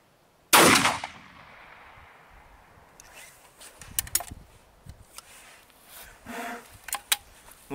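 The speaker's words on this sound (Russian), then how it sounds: "Ладно, попробуем еще один выстрел" A single loud shotgun cartridge, a commercial RIO shell, fires at the start with a sharp blast, followed by quieter clicks, rustling and handling noises of the gun.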